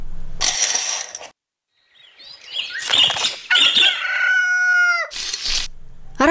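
Rooster crowing at dawn in an animated children's folk tale, a single drawn-out call with falling pitch, preceded by bursts of flapping wings and loud rustling.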